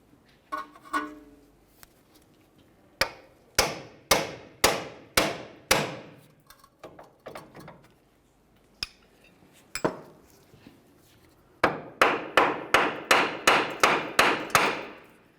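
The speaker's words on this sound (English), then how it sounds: "continue on with a hammer and pickle fork and separate the ball joint from the knuckle" Sharp metallic hammer blows on a pickle fork separating a ball joint from the rear knuckle of a 2002-2005 Ford Explorer ring out in bursts, several quick strikes, pausing, then a faster volley of about eight hits, close and loud.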